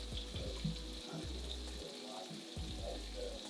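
Shrimp sizzling in a hot pan as it starts to turn pink, a steady crackling fry with low thumping handling noises underneath, close and moderately loud.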